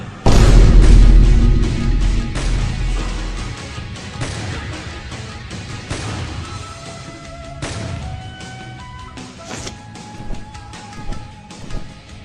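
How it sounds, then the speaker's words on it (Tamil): A Fire Style Fireball Jutsu from a Naruto video game erupts in a deep, loud booming blast that rolls for a few seconds, then gives way to a busy game soundscape of whooshes, impacts and tonal effects. "Fire style, fire ball jutsu."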